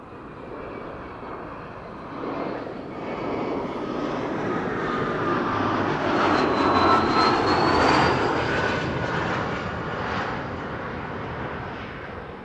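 A jet airliner on approach to Amsterdam Schiphol Airport swells from a distant rumble into a loud roaring pass with a whining engine tone, then fades, with no talking.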